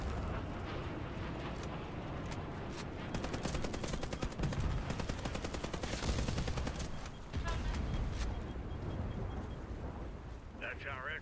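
Rapid automatic gunfire bursts through a firefight in the shooter game Warface on PS5, dense rattling volleys stretching across most of the stretch, with a player talking over the action.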